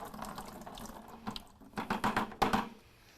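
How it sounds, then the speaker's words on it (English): Water from the drip tray of a Gaggia Classic Pro espresso machine splashes into a sink, a few uneven pours and gurgles growing louder toward the end, close by with no talking. "simply pull out the tray, and you can dump out the water into the sink"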